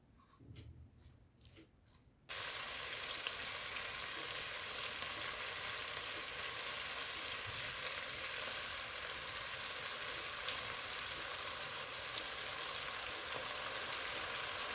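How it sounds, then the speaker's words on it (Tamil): Onion and garlic sautéing in a pan, quiet handling for about two seconds, then a sudden dense sizzle that stays steady and even to the end, no talk. "வெங்காயத்தோடு சேர்த்து உள்ளியும் சேர்த்து வதக்கினேன்."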